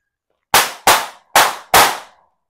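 Four sharp firecracker bangs inside a water jug in quick succession, each with a short hollow ringing decay, loud and close, with silence before and after.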